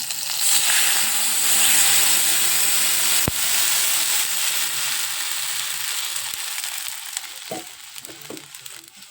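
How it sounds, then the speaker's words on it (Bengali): Water hits hot frying meat in a pan for momo soup, a loud burst of sizzling and steaming hiss with one sharp clank, slowly settling and fading over several seconds. "এখন মাংসে জল দিয়ে দেবো।"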